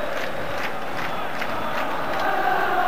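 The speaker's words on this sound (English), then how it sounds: "Huge crowds in the enclosure just below us." A huge football crowd packed into the stadium enclosure at a Rangers versus Celtic match in 1986, a steady broad roar of many voices with faint rhythmic swells, heard from above at some distance.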